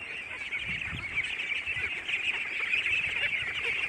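A flock of ducks at a duck farm keeps up a steady, dense chorus of quacks and honking calls, moderately loud and continuous without pause.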